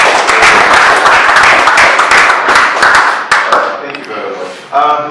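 Applause at an award and conferment ceremony: steady, loud clapping from a crowd for several seconds, thinning toward the end as a voice begins to be heard.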